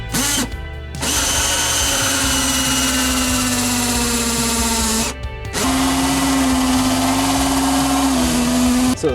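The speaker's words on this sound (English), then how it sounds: "Let's get to drilling." A power drill bores holes into the shell of an Airstream RV during a composting toilet install, running in two long, loud sustained bursts split by brief pauses, its motor whine steady and close.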